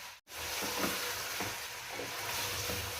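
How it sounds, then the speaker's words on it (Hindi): Pieces of mutton for kachnar gosht sizzle and fry steadily in a pan with onion and garlic, a continuous close crackling hiss with faint stirring pulses and no talk. "जब तक ये गोश्त फ्राई हो रहा है"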